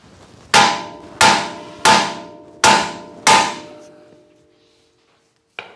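Five sharp metallic clangs ring out at a steady pace as a hammer strikes the nut on a Honda Accord tie rod, each hit decaying with a ringing tail, followed by silence and one faint final tap.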